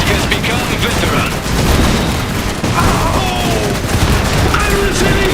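Dense gunfire and explosions from the Iron Harvest strategy game, with continuous overlapping shots and booms and voices calling out over the battle.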